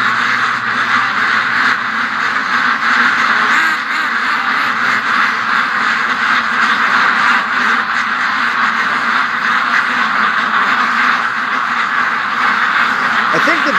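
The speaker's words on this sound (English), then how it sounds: "I think the ducks might be going to the lake here." Ducks quack steadily, close and loud, across the whole stretch, a continuous chattering flock moving toward a lake, with someone talking over them.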